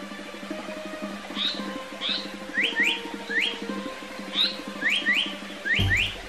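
A black paradise flycatcher calls in a forest with a series of short, rising whistled phrases, some paired, at moderate distance over a faint steady background hum.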